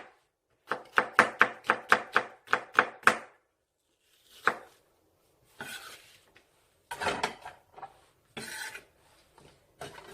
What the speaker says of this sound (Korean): 양파 반개는 이렇게 가늘게 채를 썰어서 준비를 해주세요.